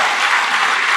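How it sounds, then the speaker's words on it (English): A crowd at a Latino recognition ceremony applauds an honoree elected to the Lansing City Council, a dense, steady burst of clapping that fills the whole short moment without any speech. "Please, a huge applaud for Trini Pelevonoglu"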